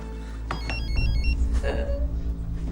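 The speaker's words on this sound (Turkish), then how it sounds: "Telefon." A telephone ringing indoors in a Turkish TV drama scene, with bright repeating electronic ring tones sounding close over a low background hum, no speech.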